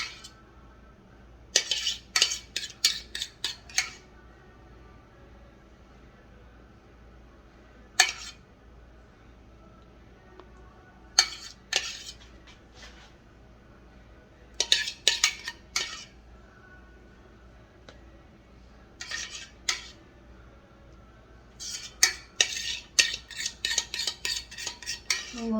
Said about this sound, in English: I'm going to scrape all that we can get out of that, because that stuff's good.